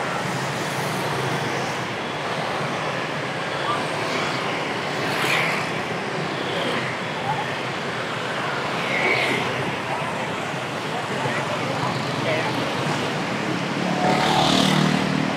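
Busy Saigon roadway near a metro station, with a dense, steady wash of car and motorbike traffic filling the scene, occasional louder vehicles swelling past.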